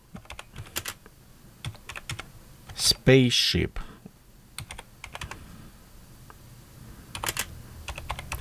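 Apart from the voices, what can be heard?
typing on a computer keyboard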